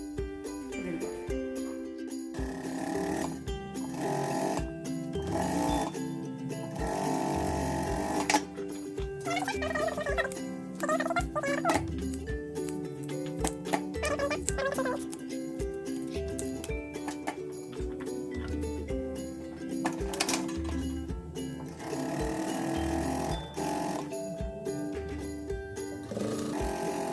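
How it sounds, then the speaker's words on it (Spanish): Domestic sewing machine stitching the armholes of a girl's sleeveless dress, its motor whirring steadily and continuously up close, with brief pauses and changes in speed. "Vamos a coser toda la sisa y la otra también a 1 centímetro"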